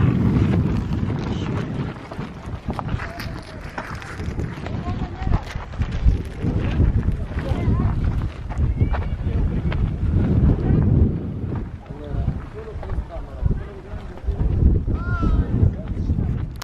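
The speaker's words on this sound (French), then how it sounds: "sur le plateau de Gizeh il y a énormément de vent" Heavy wind on the Giza plateau buffets the microphone throughout, a constant low roar with gusts, while a voice talks faintly underneath.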